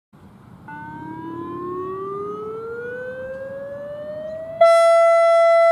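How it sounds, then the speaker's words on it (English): Outdoor tornado warning siren winding up in a long, loud rising wail that climbs steadily in pitch, then shifts abruptly into a steady, piercing high tone near the end, heard alone with no voices. "Rating EAS alarms from Tornado Sirens."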